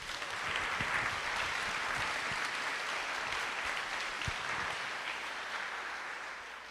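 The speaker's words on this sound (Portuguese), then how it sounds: "Pode aplaudir, pode aplaudir." Applause from a congregation at a Catholic prayer gathering, a continuous, fairly distant rush of clapping that holds steady, then thins slightly toward the end, with no speech over it.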